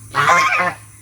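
A single loud, close honk from a goose, brief and nasal, with quiet around it.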